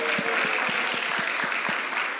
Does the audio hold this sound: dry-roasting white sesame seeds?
no